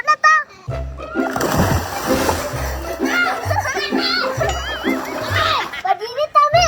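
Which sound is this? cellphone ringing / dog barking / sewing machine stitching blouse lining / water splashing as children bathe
water splashing as children bathe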